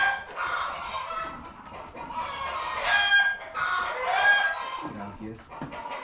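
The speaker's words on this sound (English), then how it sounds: "I know the chickens are loud." Chickens cluck and roosters crow continuously on a ranch, a dense, loud layer of overlapping calls with a voice speaking intermittently beneath the flock.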